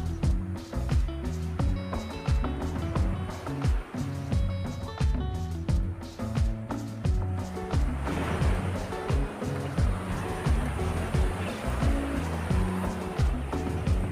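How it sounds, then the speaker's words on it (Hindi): Sea waves breaking on the shore at Majali Beach near Karwar, Karnataka, at sunset; a steady, dense wash of surf fills the scene continuously, fairly loud, with rhythmic swells and no talking. "यहाँ पर जो समुद्र की लहरें सुनाई देती हैं कानों में"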